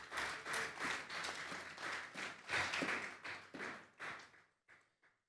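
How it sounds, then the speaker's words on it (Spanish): Congregation at a Sunday afternoon church service claps in bursts, a rhythmic patter of many hands that swells and eases, then thins to a few scattered claps and fades out at the end. "Denle un fuerte aplauso al Señor."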